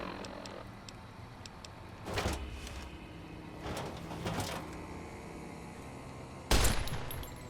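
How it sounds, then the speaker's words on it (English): A shoulder-mounted machine gun firing in a video game, heard as short bursts of rattling shots spaced a few seconds apart, ending in one louder, harsher burst over a low background hum. "Alright, shoulder mounted machine gun it is."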